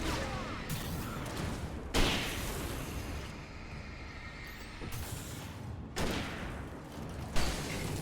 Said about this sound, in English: I will throw a flashbang.